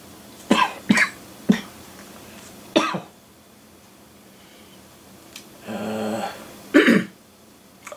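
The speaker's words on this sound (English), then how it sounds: "Be glad when this cough has gone." Several harsh coughs and throat-clearing bursts from one person, close and loud, spaced irregularly with quiet gaps between them.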